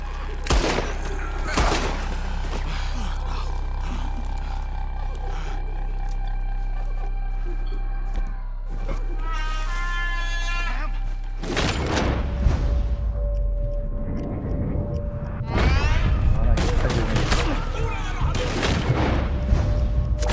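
Gunfire and heavy booms during a Red Dead Redemption 2 mission, with repeated sharp shots over a dense, loud mix of game noise and music that grows busier and more chaotic in the second half, with voices talking throughout.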